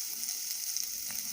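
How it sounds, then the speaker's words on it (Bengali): Boiled potatoes frying in a pan for a Bengali fish-head murighanta, a soft, constant sizzle at low volume with a faint scrape near the end and no talking. "সিদ্ধ করা আলু আছে, একটু ভাজে নামাইয়ে নেব"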